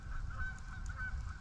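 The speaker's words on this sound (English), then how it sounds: "we got geese off in the background" Geese honking over a lake in strong wind, a repeated series of distant honks carried over a constant low roar of wind.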